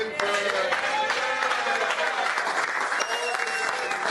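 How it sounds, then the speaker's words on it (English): An audience claps in sustained, dense applause for a film production gathering, loud and even throughout, with faint voices mixed into the crowd noise. "Let's have a round of applause for Pete Davidson."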